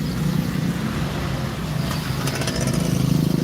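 Engines idle and rumble in a congested road jam with motorcycles, a steady, close, dense drone that swells slightly toward the end, with no talking.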